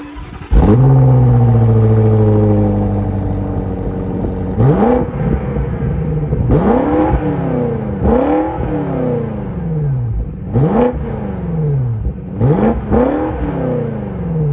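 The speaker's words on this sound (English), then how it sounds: "the M Sport exhaust that sounds incredible" A BMW X5 M Competition's V8 barks through its M Sport exhaust, one long rev to start and then a string of sharp blips rising and falling, loud and close, with no talk.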